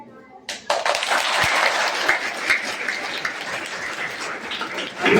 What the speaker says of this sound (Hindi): ताली बजाना है जोर जोर से।